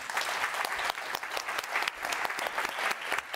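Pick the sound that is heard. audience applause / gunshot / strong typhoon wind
audience applause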